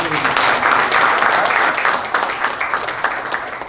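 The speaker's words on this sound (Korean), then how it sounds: "박수로 격려해 주시기" A church congregation at a New Jersey prayer meeting applauds a newly introduced pastor, dense clapping from many hands that starts full and loud and slowly thins toward the end.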